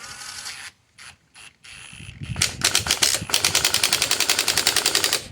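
A ratchet wrench snugs up a nut while installing an Agile RIP lift kit, giving a few scattered clicks and then a fast, steady run of close, crisp ratcheting.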